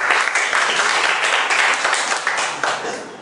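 An audience at a small self-introduction meetup in Kaohsiung applauds to welcome the next speaker. The clapping is dense and continuous, fairly close and loud, and tapers slightly toward the end.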